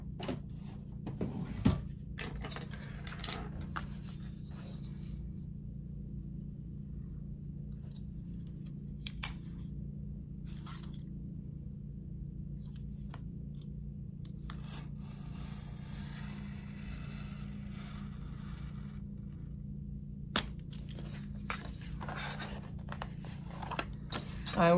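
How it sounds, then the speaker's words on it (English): A craft knife cuts a window in paper on a cutting mat for a shabby chic album: quiet, scattered scratchy strokes and soft clicks separated by near-silent pauses, with a longer rasping cut in the middle. "let me get my cutting mat and a knife. And we're gonna cut that window."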